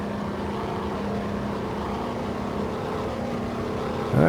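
P-47D fighter's radial engine held at full throttle for a takeoff run in a flight simulator, a steady, loud droning roar with a constant low hum that swells slightly at the very end.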